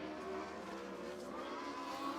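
Speedway race cars roaring through the final turn on the last lap of a race, a dense, steady engine drone close by with no break, loud and continuous throughout.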